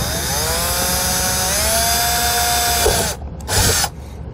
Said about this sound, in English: We're going to drill all the way through the door.